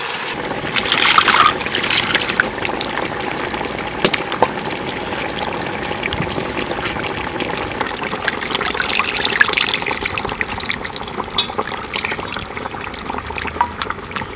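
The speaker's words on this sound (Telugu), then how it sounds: "ఇందులో ముందుగా నానబెట్టిన చింతపండు రసం కూడా వేసుకోవాలి." Soaked tamarind juice pouring into a simmering Andhra-style spicy fish curry, a steady close liquid trickle and splash running the whole time with small clinks, no talking.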